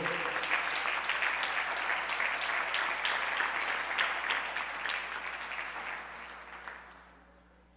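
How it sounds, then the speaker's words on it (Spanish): A church congregation applauds for several seconds, a dense steady clapping that fades out near the end. "Denle un aplauso al Señor."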